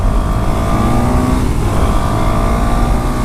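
A 2018 KTM Duke 390 motorcycle engine pulls hard through the lower gears, a loud, close, rising rev with a continuous buzzing drone lasting a few seconds and no speech over it.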